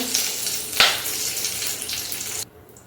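Mustard seeds and torn curry leaves hitting hot oil in a pan, a loud close hiss with a sharp burst of spattering near the start that fades and cuts off abruptly; no talking.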